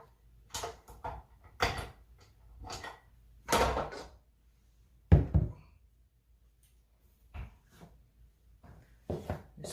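Whole wheat and oat bread dough is kneaded by hand on a countertop, making irregular soft thuds and knocks in short clusters separated by quiet gaps.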